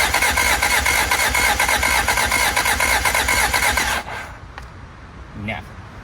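Starter motor cranking the engine of an abandoned Toyota TE72 liftback, a loud, close, rhythmic whirring chug for about four seconds that cuts off without the engine catching, leaving quiet background with a faint voice.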